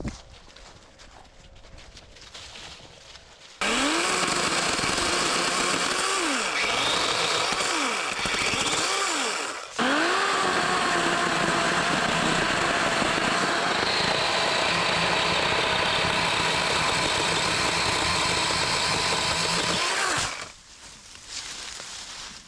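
A small one-handed handheld saw cuts through a small tree trunk outdoors in a garden, giving steady, loud, continuous buzzing strokes close by, with a brief pause midway before cutting resumes and then stops.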